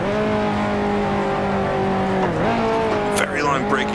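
A 1955 Formula One race car in the Grand Prix Legends game, its engine droning loudly at steady pitch, then dipping and rising again as the car brakes and accelerates, with a brief tire squeal and someone commentating over it.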